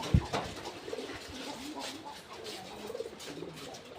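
Pigeons coo in low, rolling calls through a noisy coop, with one sharp knock at the start and several soft bursts of cooing spread across the stretch.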